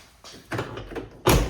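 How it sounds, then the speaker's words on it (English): A truck door lock and handle are worked on a restored pickup, giving a few sharp clicks and clunks, the last one loudest, close by with no talking. "But door locks work."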